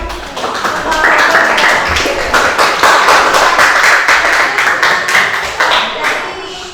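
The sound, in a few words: applause for all groups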